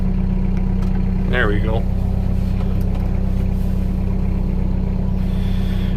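A 3430 Spra-Coupe crop sprayer engine runs steadily at a loud, constant drone close by, its low rumble filling the whole stretch while someone speaks briefly over it.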